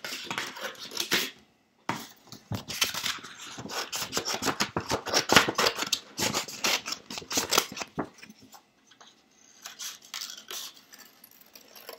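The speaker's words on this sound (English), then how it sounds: "And then I'm going to cut both of them out." Scissors snip through paper while two circles are cut out for a caterpillar craft, a close, steady run of short rasping cuts with brief pauses between passes.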